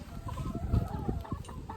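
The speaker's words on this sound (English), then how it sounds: "He's got a little chicken pen." Chickens clucking softly in a small backyard pen at a house near Townsville, faint and somewhat distant, with scattered low clucks over a background hum and no talking.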